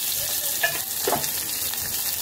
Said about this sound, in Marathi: आता हे परतून घेऊया